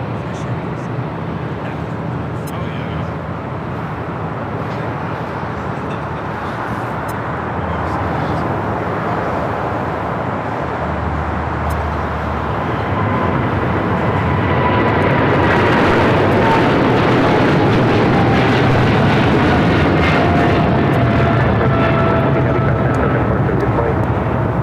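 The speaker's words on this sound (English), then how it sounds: "cargo 8420, taking off to Shanghai on a 777 freighter" A Boeing 777 freighter rolls for takeoff on runway 25 left at LAX, a broad, steady jet roar that builds and grows louder toward the end, with radio voices talking over it.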